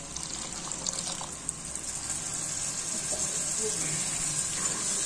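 Water pours steadily into a cooking pot of frying macaroni and minced meat, a continuous splashing gush close by, lasting several seconds without pause.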